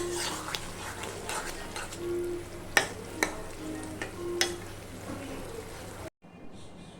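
Beef curry cooking in a pan gives a steady low sizzle, with repeated scraping stirs and a few sharp spoon knocks, close by, ending abruptly near the end.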